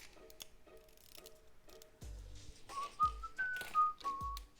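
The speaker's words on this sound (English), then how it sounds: "Oh, no whistling." A person whistles a short, wavering melodic phrase of sustained notes, fairly close and clear, over light ticking and mechanical clicks during a model-building session, with no talk.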